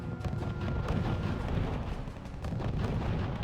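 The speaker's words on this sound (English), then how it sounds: "the artillery back here is shooting right inside the base" Artillery in the strategy game RUSE pounding a base, dense rumbling booms and bursts rolling continuously at a moderate level with no voices.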